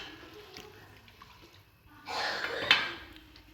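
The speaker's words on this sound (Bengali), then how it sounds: "একটু নেড়ে চেড়ে দিচ্ছি।" Carrot pulao stirred in a cooking pot: quiet at first, then a burst of scraping and clattering from a spoon against the pot, with a sharp clink near the end, close by and without talk.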